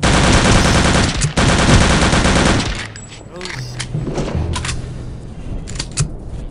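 Loud, rapid automatic gunfire in the village level of Return to Castle Wolfenstein rattles nonstop for nearly three seconds, then gives way to quieter scattered shots and game sounds.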